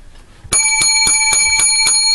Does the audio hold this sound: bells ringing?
yes